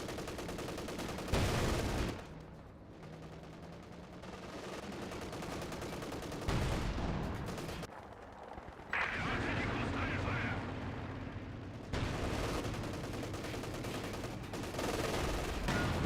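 A British Vickers machine gun fires in Company of Heroes 2 amid a battle with a Panther tank, sustained rattling bursts and booming impacts layered under a commentator's continuous talk.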